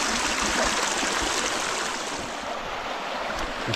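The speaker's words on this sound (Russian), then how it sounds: "Холодный, холодный ручей." A cold stream flows with a continuous, even rush of water, fairly soft and unbroken, with no voices over it.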